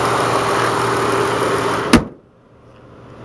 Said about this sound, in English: It's currently running, so you can hear how well it runs.